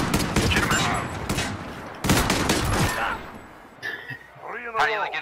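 Rapid bursts of gunfire in the Modern Warfare video game during a 3v3 match, loud and dense at first, then dropping off while a player's excited voice talks over it.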